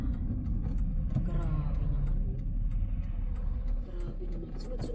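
Road vehicles rumble past one after another, a continuous low engine drone with rising and fading passes close by, while someone talks over it.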